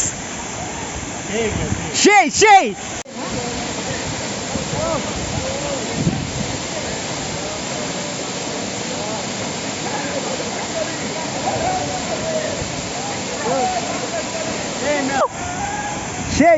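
Sahasradhara waterfall at Sitakunda, a steady loud rush of falling water filling the whole stretch, with brief splashes and handling noise near the start and end, and excited voices over it.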